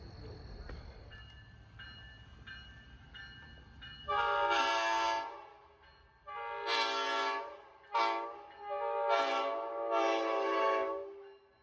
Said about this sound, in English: My brother even brought out his car with a train horn to show the virtual Railfan camera.